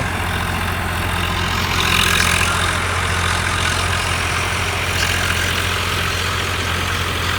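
A tractor engine runs steadily in a basmati paddy field, a constant low, throbbing drone close by with no break.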